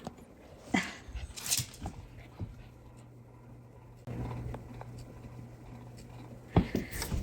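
A small dog whimpers and yips in short, scattered bursts inside a house, with a low steady hum running beneath and quiet gaps between the cries.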